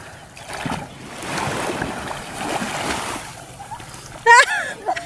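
Water splashes from people swimming at a beach, with broadband wash rising and falling throughout and a few brief louder splashes near the end, under outdoor ambience and a short burst of voices.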